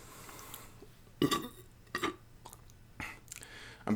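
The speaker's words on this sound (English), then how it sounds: "I'm burping up foam and shit." Several wet, throaty burps from someone who has just chugged a bottle of Sprite, coming in short bursts about every second, close and loud against a quiet room.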